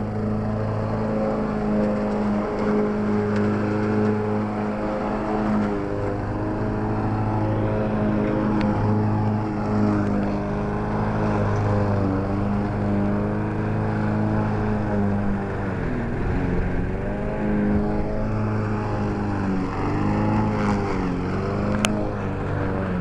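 A lawn mower runs steadily while cutting grass beside a house, a loud, continuous engine drone with a constant pitch that dips and swells slightly as the machine moves, with no talk over it.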